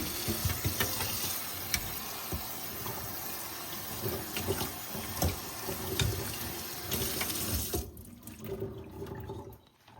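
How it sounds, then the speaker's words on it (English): Steady rush of cold tap water splashing into a sink during kitchen rinsing, continuous and fairly loud, easing off near the end. "we're gonna rinse it with cold water"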